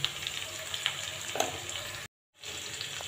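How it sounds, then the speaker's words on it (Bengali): Potato and cauliflower pieces fry in a pan with a continuous close sizzle and scattered crackles, cut by a short silent gap before the frying resumes. "আলু আর ফুলকপি আমি কিছুক্ষণ ভেজে নিয়েছি"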